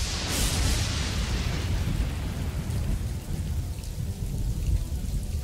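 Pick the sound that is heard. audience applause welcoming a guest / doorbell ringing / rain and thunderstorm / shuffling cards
rain and thunderstorm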